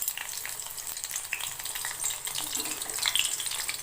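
Four slit green chilies fry in hot oil, giving a steady, close sizzle and crackle with small spitting pops that build slightly toward the end.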